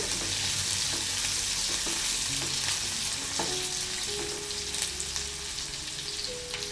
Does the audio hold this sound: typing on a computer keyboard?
no